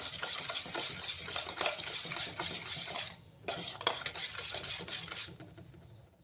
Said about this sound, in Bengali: বেকিং পাউডারটা দিয়ে অল্প মিক্স করে নেব।